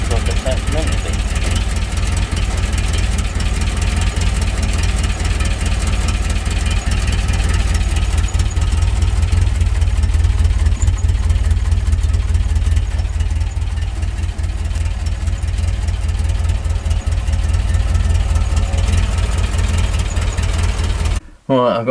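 A Talbot Express van idles steadily on its new exhaust with a low, even rumble close by for the whole stretch, cutting off abruptly at the end while someone talks over it.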